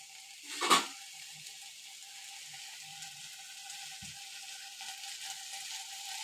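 Potatoes frying in a pan with water and salt added let out a brief loud sizzling flare near the start, then settle into a soft, steady hiss with a faint knock later.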